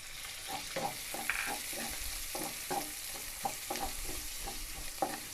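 Mushrooms and sausages stirred while frying in a pan for noodles, a soft, steady sizzle broken by regular scraping spatula strokes, quiet and close with no voices.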